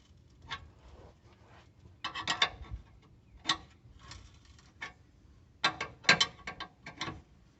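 A hand ratchet tightens bolts, with clusters of sharp, close clicking strokes in irregular bursts separated by short pauses, alone without talk.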